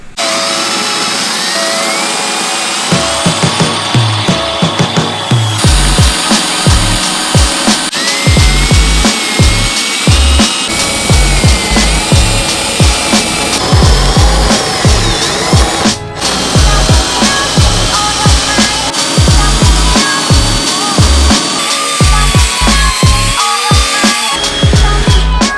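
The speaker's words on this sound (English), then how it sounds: "after all the spot welds have been drilled out, the roof is finally starting to give a little bit" A drill bores out spot welds on the roof of an A90 Toyota Supra during a carbon fiber roof swap, as rapid stuttering grinding bursts over loud continuous workshop machine noise, close and harsh throughout.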